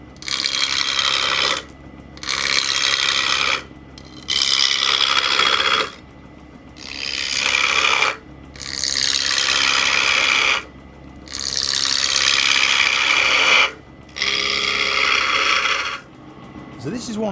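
Skew chisel cutting a pommel into large-diameter wood spinning on a lathe, a series of about seven loud rough scraping bursts of one to two seconds each, separated by short pauses with the lathe humming beneath.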